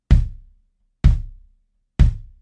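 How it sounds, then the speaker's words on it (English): A bass drum thumps three times at an even, moderate quarter-note pace, each hit deep and punchy with a short decay into silence between beats. "A moderate beat on the bass drum would sound like this."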